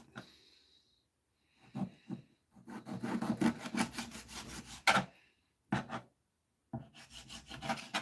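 A knife rasps and scrapes as it trims a fish fillet, coming in short close strokes separated by silent gaps, with one sharp knock midway.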